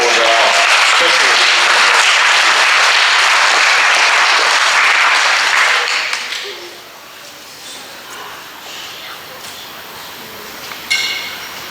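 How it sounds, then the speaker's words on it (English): A school assembly audience applauds the Year 6 award winners with loud, dense clapping for about six seconds, then it drops away to a quiet room hum with a few faint sounds. "a big round of applause for all of our special"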